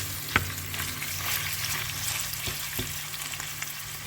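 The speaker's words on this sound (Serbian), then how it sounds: "Meso se lagano prži," Mixed ground meat, 500 grams, fries with onion in a pan, a continuous close sizzle broken by occasional stirring scrapes and clicks.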